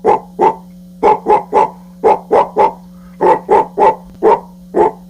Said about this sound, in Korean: 그때 마당에서 요란한 짖음이 터져나왔습니다